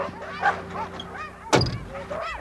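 Alaskan Huskies, a line bred from Eskimo and Indian dogs, at a remote breeding kennel of 130 dogs give scattered barks and yips, with one sharp loud bark standing out among fainter dog calls.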